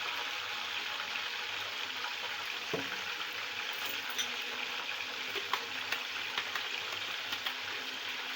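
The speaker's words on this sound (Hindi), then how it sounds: "इसको हम अब 3 से 4 मिनट के लिए फ्राई करेंगे, जब तक हमारा प्याज अच्छे से ब्राउन हो जाए उसमें।" Ground onion frying in ghee in a karahi, a steady close sizzle and crackle running throughout, with no talking.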